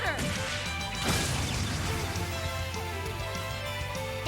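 An Armor Breaker attack in the Trails of Cold Steel game lands as a loud, crunching smash with a sharp impact about a second in, followed by ringing shattering debris and game music, with a voice shouting over the action.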